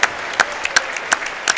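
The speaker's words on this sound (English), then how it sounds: "Let's give a round of applause to our class of 2022 seniors" A gym crowd at a high school boys varsity basketball game applauds the senior players and their parents, with sparse, distinct claps standing out over a thin background murmur.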